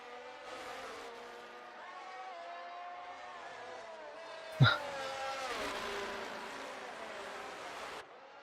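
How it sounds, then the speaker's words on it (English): Race cars in a sim racing game at the Belgian Grand Prix: a steady, fairly quiet whine of engines rising and falling in pitch, with one sharp brief knock midway. "Larson goes on the inside and overtakes Boosted."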